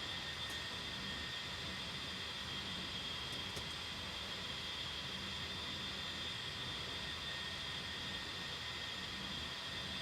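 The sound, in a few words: jet aircraft engine throttling down, DCS flight simulator video game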